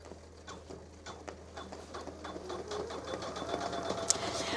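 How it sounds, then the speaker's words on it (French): A Janome Memory Craft 1000 sewing machine stitches with a fast, even mechanical patter that grows gradually louder, close and quiet, with no voices. "j'abaisse mon pied et je peux démarrer du coup ma couture"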